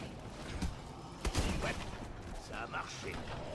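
Rocket launcher fire in Call of Duty Advanced Warfare Exo-Zombies, with loud bursts of game gunfire and explosions, including a sharp blast near the middle, over a dense background of combat noise.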